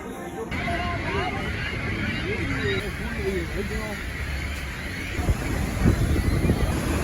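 Niagara Falls thunders from below the base of the falls as a steady, loud broadband roar, with wind buffeting the microphone and a crowd murmuring nearby.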